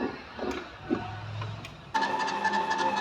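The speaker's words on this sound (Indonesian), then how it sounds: "Kita mixer dia sebentar ya teman-teman." An electric mixer beating egg yolks starts after some faint kitchen clatter, then whirs at a steady, moderate level right through the end.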